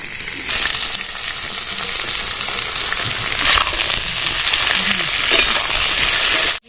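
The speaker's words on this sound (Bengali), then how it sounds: "আলু আর পটল ভাজার সময় একটু লবণ দিয়ে ভাজলে সিদ্ধটা ভালো হয়" Potatoes and pointed gourd frying together in oil with a dense, loud, steady sizzle and occasional stirring clinks, running unbroken until it cuts off abruptly at the end.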